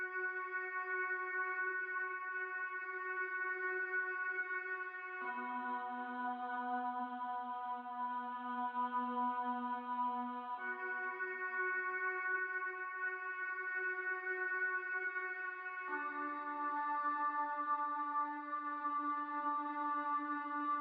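Sustained electronic key tones hold single pitches, changing note every five seconds or so, with a smooth reverberant tail throughout.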